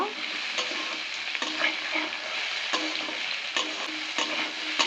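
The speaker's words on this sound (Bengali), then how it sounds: "এবার আমি দিয়ে দিচ্ছি গাজর কুচি দিয়ে দিচ্ছি বিট কুচি ভালো করে নেড়ে নেব" Potato, onion, grated carrot and beetroot are stir-fried in a pan, giving a steady loud sizzle broken by regular scraping strokes of the spatula, close up and with no talking.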